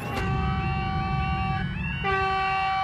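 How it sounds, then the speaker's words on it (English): A rush-hour train's horn blares in long, sustained harmonic tones as it approaches a railway crossing, over the rumble of the passing train, pausing briefly before sounding again, loud and near. "There is a train approaching this railway crossing."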